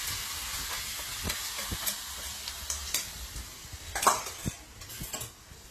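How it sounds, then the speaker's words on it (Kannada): Hot oil tempering of urad dal, curry leaves and dried red chillies sizzles faintly as it is poured into chutney, with soft stirring scrapes and a few light utensil clinks. "ಒಗ್ಗರಣೆ ಚಟ್ನಿಗೆ ಹಾಕೋದು."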